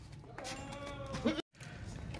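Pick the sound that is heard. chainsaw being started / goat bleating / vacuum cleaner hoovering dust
goat bleating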